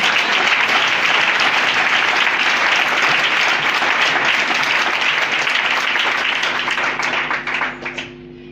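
A church congregation applauds and cheers in a loud, sustained burst of dense clapping that holds steady, then thins and fades out near the end, leaving a low hum.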